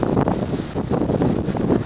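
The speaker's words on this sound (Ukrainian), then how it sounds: "Вітер." Steady gusting wind buffets the microphone, a continuous low rumbling roar with slight surges throughout, no voices.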